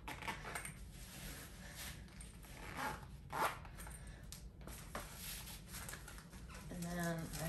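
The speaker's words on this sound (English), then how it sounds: "So you just zip this up." A zipper on a waist trainer shapewear garment is drawn up in a few short rasping pulls, close and quiet, with soft rustling and a person speaking nearby.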